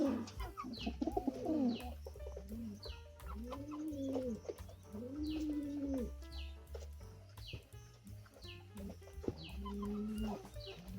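King pigeons at a fancy-pigeon sale, several birds cooing in repeated low rolling phrases close by, overlapping with a steady low hum and occasional soft clucks and higher chirps.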